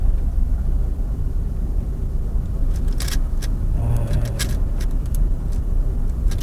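Steady road traffic with cars rumbling past in heavy typhoon rain, a continuous low roar with brief higher swishes of passing vehicles, no voices.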